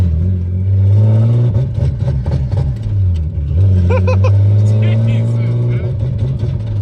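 A turbocharged VQ35 car engine with running anti-lag revs hard and close, its pitch climbing and dropping in steps as it pulls through the gears.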